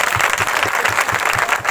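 A congregation at a live Easter prayer meeting clapping in unison for God, a loud rhythmic beat of hands at a brisk even pace, about three claps per second.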